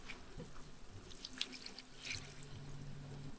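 Water runs into a pot of chicken tinola, a steady faint pour and trickle with a few small splashes and drips, with no voices.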